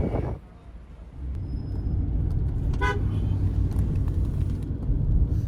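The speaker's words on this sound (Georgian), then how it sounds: "აი ჩვენი ავტობუსი." A bus on a city street, its engine rumbling steadily nearby with a short horn toot partway through and some faint indistinct voices in the background.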